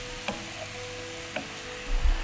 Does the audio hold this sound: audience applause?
no